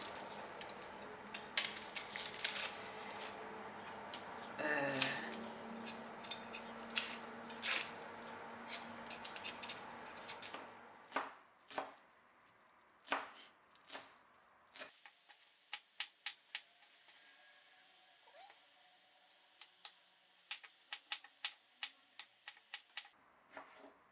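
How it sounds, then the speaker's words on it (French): A knife chops onions on a board with crisp, quick taps. At first they are dense and layered over a busier background, then they thin out into sparse, separate clicks that sound close and fairly quiet. "Je vais couper les oignons."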